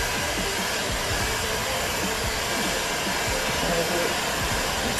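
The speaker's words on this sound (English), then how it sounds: "can you use a hairdryer for this if you don't have you a can, heat but gun?" A hair dryer runs steadily at close range, blowing hot air onto a plastic belt buckle to soften it; the whirring roar stays constant and loud throughout with no break.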